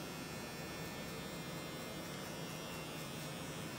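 An electric hair clipper hums with a steady, continuous buzz during a high fade haircut, running close and fairly quiet without pause or talk.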